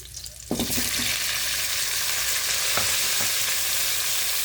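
Boiled chicken feet hit hot oil in a pan, setting off a sudden loud sizzle that settles into continuous close frying crackle with occasional stirring clicks.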